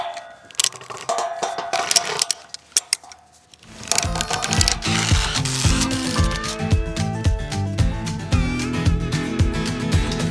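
A tie-down strap being ratcheted tight on a steel cattle-rail gate post: a few sparse clicks at first, then a steady run of rapid, repeated mechanical ratchet clicks, close and fairly loud.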